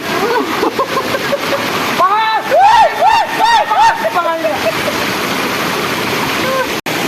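Strong rush of a fast-flowing stream with crystal-clear water, a steady broadband roar close by that runs through the whole stretch, with people talking over it.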